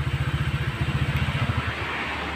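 A Honda Click scooter engine idles with a steady, rapid putter close by, then cuts out as a wireless killswitch stops it, leaving quiet.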